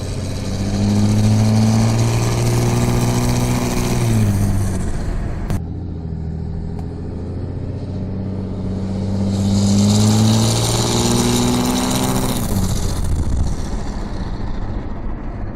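A 6.7 Cummins diesel truck with a non-VGT turbo and aftermarket exhaust rumbles loudly from inside the cab, climbing in two strong acceleration pulls with rising engine tone and turbo whistle, easing off between them.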